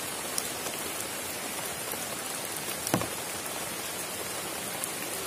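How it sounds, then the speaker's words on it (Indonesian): Steady rain pours down outdoors at night, a dense even hiss of drops on surfaces with one slightly louder patter near the middle, no voices. "sampai rela hujan-hujanan"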